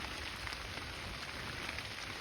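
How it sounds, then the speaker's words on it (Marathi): Steady rain patters on surfaces, a dense even hiss with no voices, fairly soft and constant throughout. "लय पाऊस चाललाय जोरात"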